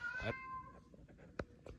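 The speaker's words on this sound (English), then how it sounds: "there's the cat" A single cat meows once near the start in a barn, a clear drawn-out harmonic cry followed by quiet rustling and a couple of brief knocks.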